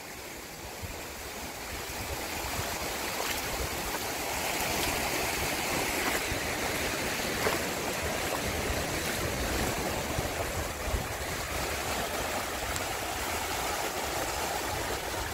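Small, gentle waves wash steadily onto a quiet, deserted beach in Cambodia, a continuous broad surf roar with soft swells and no voices.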